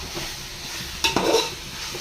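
A rice mixture sautés in oil with fried onion, a low steady sizzle up close, then a sharp spoon clank and scrape against the pan about halfway through, with no voices.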